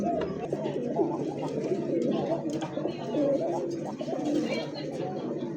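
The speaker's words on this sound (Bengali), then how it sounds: "দেখছেন কাকা কবুতরের ডাক" Pigeons at a breeder's farm coo in a steady, overlapping murmur of soft low calls, close by, with people chattering underneath throughout.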